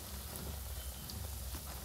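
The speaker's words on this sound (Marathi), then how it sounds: "तूप तापल्यानंतर त्याला मंद आचेवरती तळून घ्यायचं." Dal batter rounds for motichoor laddu frying in hot ghee over a low flame, giving a soft, continuous crackling sizzle that holds steady throughout with no talking.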